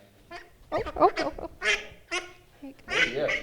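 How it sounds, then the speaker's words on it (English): Several ducks quack loudly and close by in a lively, irregular series of calls at an animal welfare organisation's event, with a person talking in between. "as you can hear, they're quacking away"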